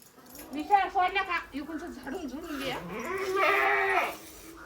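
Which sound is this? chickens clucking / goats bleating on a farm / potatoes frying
goats bleating on a farm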